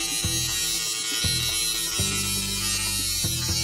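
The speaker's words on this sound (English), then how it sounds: "So I'm gonna shave that right now and I'll show you." An electric shaver with its guard on buzzes steadily across an arm, a constant close motor hum with small shifts in pitch as it presses against skin and hair.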